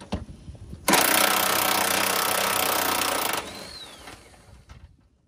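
Pneumatic impact gun with a 22 mm socket spinning off the upper nut of a rear shock absorber on a 2000–2004 Nissan Pathfinder; one loud sustained rattling burst of about two and a half seconds, then trailing off.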